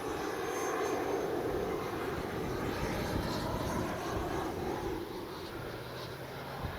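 A steady, fairly faint engine drone with wind noise, easing slightly toward the end as an FMS Avanti S 90mm RC jet comes in to land in gusty wind.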